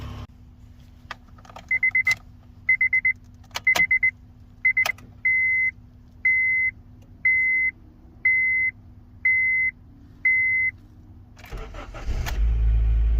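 A Honda FA5 Civic's engine cranks and fires up near the end, roaring to a steady idle, preceded by a series of regular electronic chimes and a few clicks in a quiet garage.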